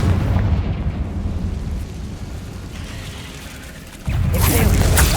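Confringo blasting spell going off in the video game Hogwarts Legacy, a loud sustained rumbling blast that fades slightly, then a second heavy burst near the end.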